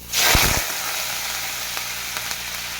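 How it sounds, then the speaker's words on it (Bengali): Fish oil hits a hot wok with a sharp burst of sizzling, then settles into a steady, close frying hiss that continues alone. "মাছের তেলটা দিয়ে দিলাম"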